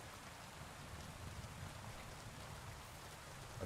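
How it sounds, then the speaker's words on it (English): Steady rain falls in a game world at a shrine-like site, a soft continuous hiss with low rumbling texture, fairly quiet and unbroken, with no voices. "I'm yelling over top of the rain here"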